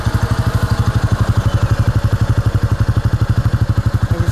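Honda Rancher ATV engine fitted with a custom welded silent muffler, idling nearby with a steady, fast, even thumping pulse and a muted exhaust note, no voices.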